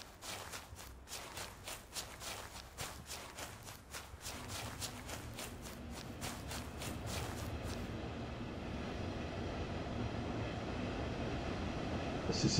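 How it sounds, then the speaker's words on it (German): A double-decker train coach passes in Train Sim World 4 near Leipzig Hbf, a dense rhythmic clatter of wheels over rail joints giving way to a steady, loud rolling rumble and hiss that keeps building to the end. "da kommt ein Doppelstockwagen"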